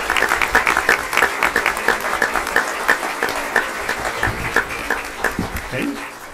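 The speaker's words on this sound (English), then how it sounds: "One more round of applause for all these outstanding performers." Audience applause for student performers at a Pasadena ISD school board meeting, a dense steady clapping throughout with cheers and talk mixed in.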